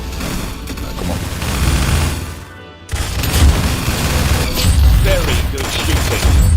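Dense gunfire and booming blasts from a shooter video game, loud and sustained with a brief drop near the middle, with a voice faintly audible underneath.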